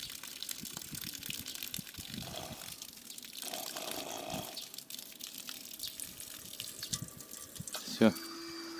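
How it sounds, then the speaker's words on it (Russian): Water gushing and splashing from a submersible pump running straight off a 100 W solar panel, a continuous moderate flow with some irregular bursts and a brief tonal sound near the end. "Ну что, воду качает даже напрямую."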